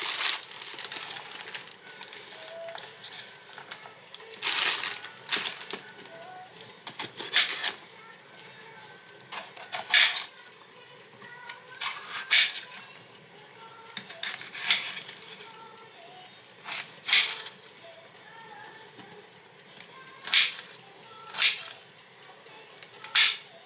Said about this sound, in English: So I'm just going to chop up some peppers now.